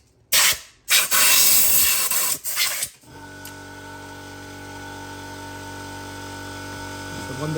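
Brake cleaner sprayed from an aerosol can into a car's intake pipe, a few loud hissing bursts in the first three seconds, then a steady mechanical hum with tonal whine takes over.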